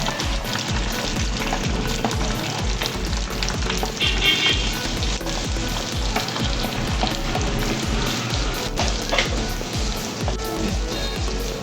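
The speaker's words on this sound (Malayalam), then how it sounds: "ഇതൊക്കെ ഒന്ന് ചെറുതായിട്ട് മൂപ്പിച്ചെടുക്കാം ബ്രൗൺ കളറായി വരുന്നവരെ ഒന്ന് ഇളക്കി കൊടുക്കണം" Chopped garlic, ginger and green chillies fry in a pan for a gooseberry pickle, producing a dense, continuous close sizzle with light crackling and occasional stirring scrapes.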